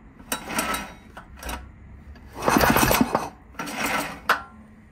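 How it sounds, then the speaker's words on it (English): With the spark plug removed, a hydrogen-fuelled engine gives off irregular metal-on-metal knocking, a few short, sharp clanking bursts heard up close with brief quiet gaps between them. "when I take out the spark plug, you can hear some knocking inside the engine"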